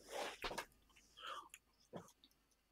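A man chews with his mouth open, giving soft, wet smacking and crunching sounds in short bursts, close and faint, with no talk.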